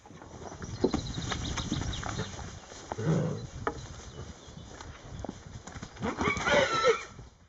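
A horse named Matt neighs and whinnies while hooves clip-clop irregularly among other horses, close by outdoors with scattered animal sounds and no talk.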